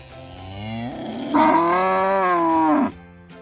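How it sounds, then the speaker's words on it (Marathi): A calf moos in a long, drawn-out bellow, loud and close, rising after a softer lowing start and then cutting off. "वासरा बोन कशी करता बघा"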